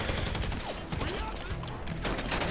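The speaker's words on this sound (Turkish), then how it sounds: "Ateş ediyorlar." Rapid bursts of GTA 5 gunfire crackle continuously over a dense, noisy background, loud and close throughout.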